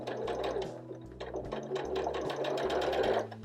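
Sewing machine stitching a curved seam, a close, steady mechanical whir with rapid needle chatter that slows and speeds slightly as the fabric is guided.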